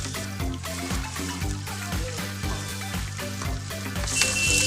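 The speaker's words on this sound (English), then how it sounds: "Almost immediately add chopped garlic and green chillies." Onions, chopped garlic and green chillies sizzle in a hot wok for street-style Hakka chowmein, a steady close frying hiss beneath a prominent rhythmic music track.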